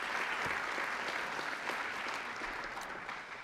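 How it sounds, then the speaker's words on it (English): Steady crowd applause at a youth soccer club's Class of 2024 senior night, dense and continuous with no pauses, moderately distant and fading slightly near the end. "let's give him a round of applause anyway"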